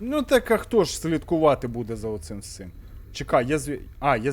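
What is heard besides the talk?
No distinct noise like a dog, phone or traffic.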